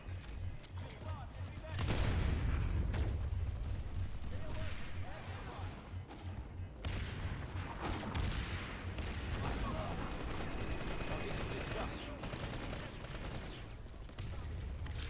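Continuous gunfire from the online shooter Planetside 2, a dense, loud stream of rapid shots and bursts with occasional booms, while players talk over it now and then.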